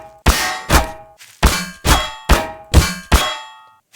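Repeated loud metallic clangs ring out as a car strikes something in a driving game with modded cars, seven sharp hits at an uneven pace, each decaying with a bright ringing tail, with no talking.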